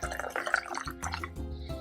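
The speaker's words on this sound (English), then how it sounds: "And so I'm just gonna pour it into" Canned unsweetened green tea is poured into a cup, giving a continuous liquid splash and gurgle that shifts in pitch as the cup fills, close and fairly loud.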